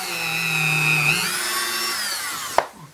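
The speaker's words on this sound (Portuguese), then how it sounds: "Dremel para facilitar a vida, com a broquinha, e vou furar só o suficiente para poder colocar o parafusinho" A Dremel rotary tool fitted with a small drill bit bores a small screw hole, giving a steady high whine close up that shifts pitch partway through, then ends in a brief knock as it stops.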